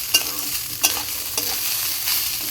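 Rice for pulao fries in a pan while being stirred, with a steady close sizzle broken by a few sharp scraping strokes of the spoon.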